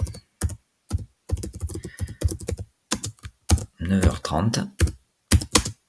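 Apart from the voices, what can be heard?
typing on a computer keyboard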